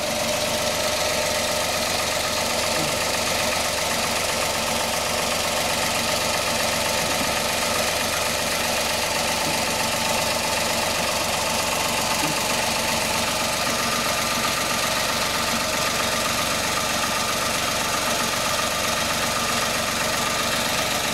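A Peugeot 107 with a 1.0 L 68 hp engine idles steadily after an oil and filter change, a loud, even mechanical hum with constant rhythmic ticking and vibration, heard close up with no talking.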